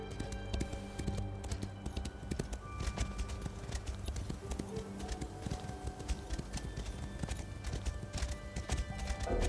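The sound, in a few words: horse hooves galloping in the video game Elder Scrolls Online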